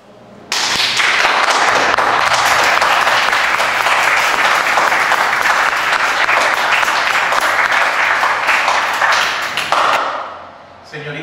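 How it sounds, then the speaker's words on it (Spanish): Loud, sustained audience applause, dense continuous clapping from a large crowd that holds steady for about nine seconds, then drops away abruptly. "Señorita Martínez, los aplausos lo dicen todo."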